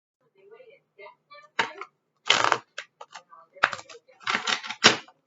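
Tarot cards being shuffled by hand in a small run of crisp riffles and soft flutters, close and fairly quiet, broken by short pauses, with no talking during the shuffling.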